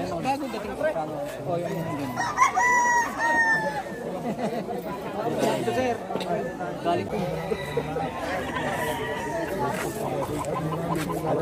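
Chickens cluck and a rooster crows amid a noisy crowd of chattering people, the birds close by with many voices mixed in.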